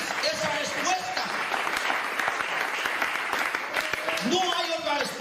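A church congregation bursts into sustained applause during a sermon, many hands clapping in a thick, even roar while voices rise and shout above it.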